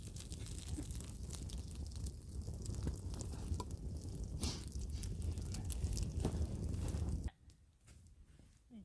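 Campfire burning outdoors on a winter day, a steady close crackle and hiss with scattered pops that runs for about seven seconds, then drops suddenly to a much quieter background.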